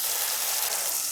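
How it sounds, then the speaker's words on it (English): Beef short ribs sear in a pan with fat rendering off, giving a steady, close, even sizzle and crackle that runs without a break and with no voices over it. "now you can see there's fat being rendered off this beef into the pan"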